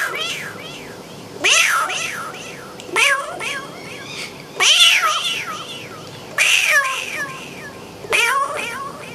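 A man imitates a cat, giving about five separate meows with short pauses between them, each a rising then falling wail, heard close and fairly loud with no other talk.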